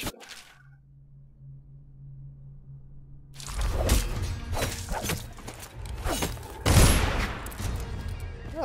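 Dense gunfire in the stealth game Dishonored, a rapid, chaotic volley of close shots and sharp cracks that starts abruptly after a near-silent opening and continues loudly to the end.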